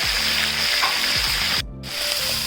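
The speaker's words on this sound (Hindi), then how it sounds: "इसमें ऑयल मैंने गर्म कर लिया था, इसको अच्छे से मैंने आज चिकन फ्राई कर रही हूँ।" Chicken frying in hot oil for chicken korma, a steady close crackling sizzle with occasional stirring scrapes and a brief dip near the end.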